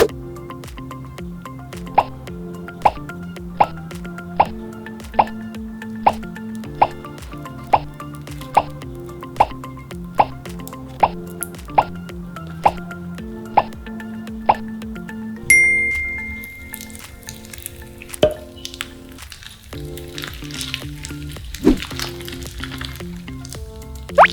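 Rhythmic wet plops repeat at a steady pace, then give way to slower, messier squishing and sticky squelches of slime mixed with clay worked by hand, close and clear.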